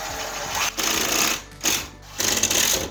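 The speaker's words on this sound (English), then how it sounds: "So I'm just gonna hold this piece up while Emilio screws it in" A screw gun drives screws into a small piece of drywall held in place, with three bursts of buzzing whir broken by short pauses, close and fairly loud.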